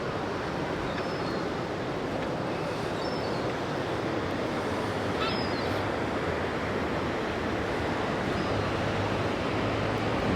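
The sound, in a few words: flowing river in Bath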